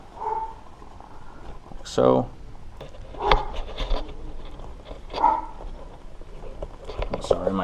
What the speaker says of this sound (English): Sorry, my dogs are barking in the background here.